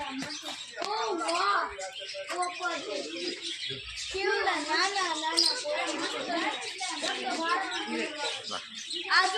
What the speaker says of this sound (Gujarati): અલગ અલગ પ્રકારના ચકલાઓ